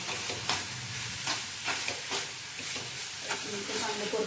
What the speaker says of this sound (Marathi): चांगलं परतून घेऊया।